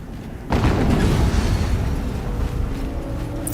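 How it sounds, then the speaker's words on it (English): A loud explosion in the video game Horizon Zero Dawn, with a sharp boom at the start followed by a long, heavy rumble that fills the rest of the clip. "Another explosion."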